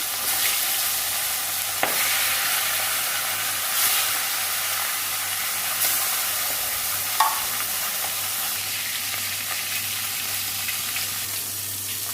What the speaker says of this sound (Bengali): মাছের মাথা দিয়ে লাউ তরকারি করবো মাছের মাথাটা ভেজে নেবো